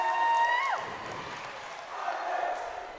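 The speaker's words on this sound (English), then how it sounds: "Certainly getting the crowd fired up out here." A volleyball crowd cheers and whoops after a kill, a loud burst of cheering that settles into a quieter murmur and rises again, with an announcer talking over it.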